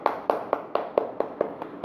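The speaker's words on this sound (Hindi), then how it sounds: "आप खुद के लिए जोरदार तालियां बजाइए" Audience at a women's business welcome event claps in a steady, evenly spaced rhythm, eight crisp beats in quick succession, close and clear with no talk.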